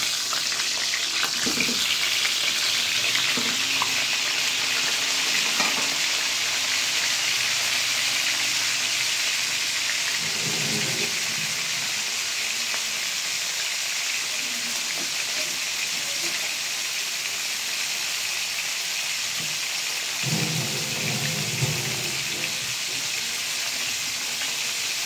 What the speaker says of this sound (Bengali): এখন সামান্য পরিমাণে একটু লবণ মেখে এই পটলগুলোকে হালকা হালকা ভেজে নেব।